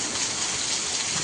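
Heavy rain pours steadily as a dense, continuous hiss, loud and close, with no letup and no voices.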